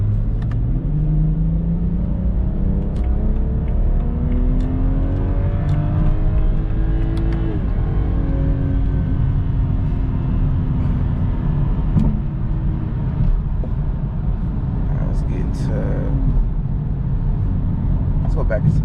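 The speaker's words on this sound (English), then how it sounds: "a little acceleration clip right here." A car accelerates with a steady, loud engine drone that climbs in pitch through successive gears, up close and continuous throughout.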